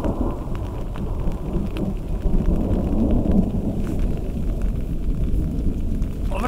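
Heavy rain pours steadily onto a tent during a thunderstorm in New Zealand's South Island, with low rumbling thunder rolling beneath the dense, continuous downpour, loud and close throughout.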